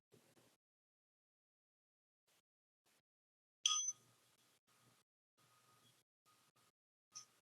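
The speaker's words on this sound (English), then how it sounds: "These bells are giving me some idea when to go to the next section" Bell chimes cue the sections of a qigong exercise session, ringing out as a few sparse, soft tones, one brighter strike standing out, separated by near silence.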